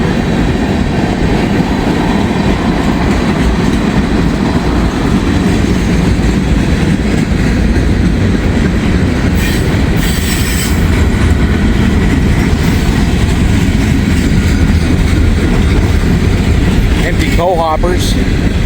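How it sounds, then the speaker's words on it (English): A freight train hauling coal hopper cars rolls past close by, a loud, continuous rumble and rattle of wheels on rails that lasts the whole time. "Coal hoppers."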